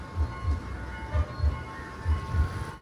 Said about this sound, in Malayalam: ഈ വരുന്ന ട്രെയിനില്ലേ കൊളംബോന്ന് കാൻഡിയിലേക്ക് ഞങ്ങൾ വന്ന ട്രെയിനാണിത് അത് കടന്ന് പോകുന്നതിന് കാണാം